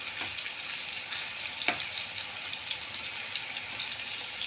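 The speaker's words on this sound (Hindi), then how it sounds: "इस तरह से आप तेज आंच पे इसको पकाइए और जब तक ये गुलाबी ना हो जाए आप इसको पकाते रहिए और पलटते रहिए" Red lentil balls (masoor dal pakori) deep-frying over high heat, a continuous close sizzle with faint taps as they are turned.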